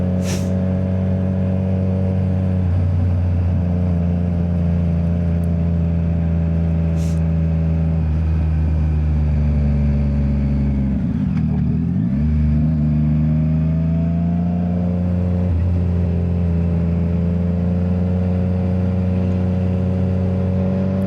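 A motorcycle cruises along a highway near the 605 entrance, its engine holding a steady loud drone with wind roar and a brief dip in pitch midway, no talking.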